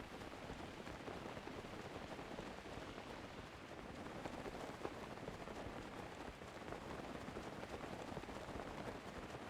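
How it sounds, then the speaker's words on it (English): Rainfall in the video game Breath of the Wild, on an island. Soft, continuous hiss of rain on surfaces sounds even and unbroken throughout, faint and distant, with no voices over it. "I hate the rain."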